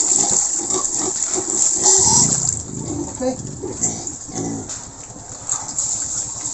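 Water gushes as it is poured for feeding pigs, with pigs grunting and oinking close by and someone speaking briefly over the noise.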